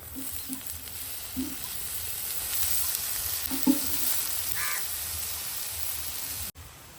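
Onions frying with boiled, grated bamboo shoots in a pan for a tribal bamboo-shoot curry, giving a steady broadband sizzle throughout with a few soft stirring knocks, close and fairly loud, no talking.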